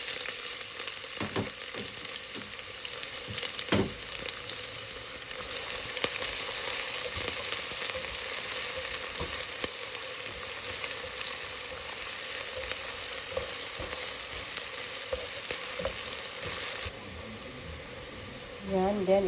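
Garlic and onion fry in a pan with a steady, close sizzle and hiss that runs throughout, with occasional stirring clicks.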